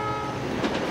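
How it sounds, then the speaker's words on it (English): A cartoon express train rushing past at speed, a loud continuous rumble and rolling rattle with a brief swelling whoosh as it passes close by. "Whoa, that train's so fast. It's already gone."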